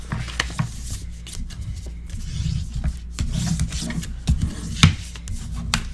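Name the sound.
burnishing a paper pocket flat for a mini album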